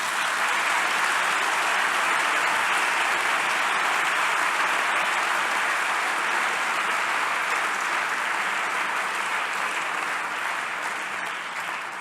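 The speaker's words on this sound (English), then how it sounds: "A big applause for the people." Sustained, even applause from a large conference audience at a closing plenary and ceremony, a dense continuous wash of clapping that holds steady for twelve seconds and tapers slightly at the end.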